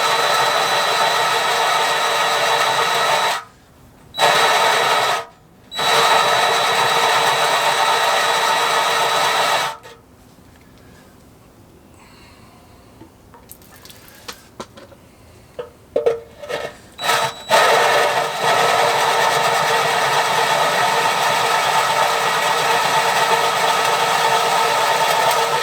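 A 3/4 inch bit is drilled into a chiminea during a wood-to-gas fire conversion. The drill runs in steady whining bursts with brief pauses, then stops for a quieter stretch of scattered handling noises before it resumes.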